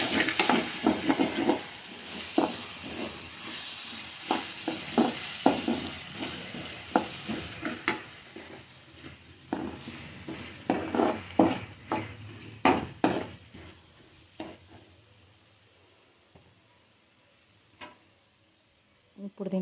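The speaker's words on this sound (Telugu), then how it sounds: "½ టీ స్పూన్ పసుపు వేసి కొంచెం ఉల్లిపాయ ముక్కలు ఇంకొంచెం ఫ్రై అయ్యే వరకు కలుపుకోవాలి." Onion pieces and turmeric stir-fried in an oily pan, with repeated scraping and clattering spoon strokes over a steady sizzle that quiets toward the end.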